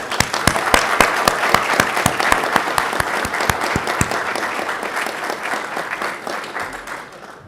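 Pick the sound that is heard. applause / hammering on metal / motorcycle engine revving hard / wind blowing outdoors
applause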